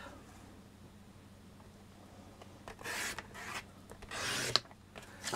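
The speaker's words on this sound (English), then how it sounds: "Then I'm going to cut a 4-inch strip." Cardstock strips are sliced on a paper trimmer, making a few short raspy scraping strokes near the end, close and moderately loud over a quiet background.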